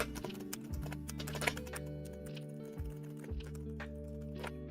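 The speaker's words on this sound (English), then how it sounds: "So that's my trusty buckling spring keyboard." Keys clatter on a Model F62 buckling spring keyboard in quick, uneven bursts of sharp, springy clicks, close and fairly quiet over a low steady hum, with no talking.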